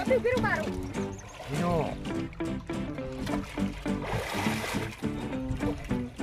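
Water splashes and churns in the Mahisagar river near Mujpur as people bathe and duck under. The splashing is near and continuous beneath steady talking voices.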